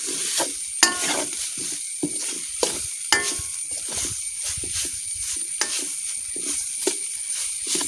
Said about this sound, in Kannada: ಇವಾಗ ಇದನ್ನು ನಾವು ಚೆನ್ನಾಗಿ ಮಿಶ್ರಣ ಮಾಡಿಕೊಳ್ಳಿ